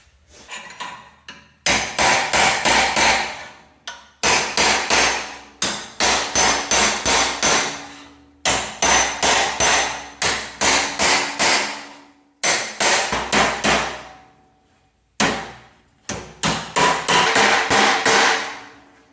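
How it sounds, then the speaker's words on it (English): Rapid, sharp metallic hammer blows strike a chisel to bend sheet metal on a Pontiac, in quick bursts, pausing briefly between volleys, loud and close. "let's get a regular hammer and a chisel and just bend that down"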